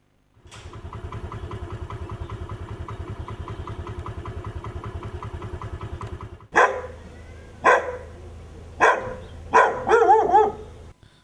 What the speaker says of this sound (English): dogs are allowed to roam freely inside the premises of Hospicio